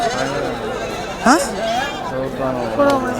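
A ram bleats sharply once amid crowd chatter at a weekly goat market in Galiveedu, with another fainter bleat shortly after, people talking nearby throughout.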